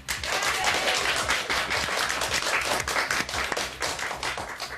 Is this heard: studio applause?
yes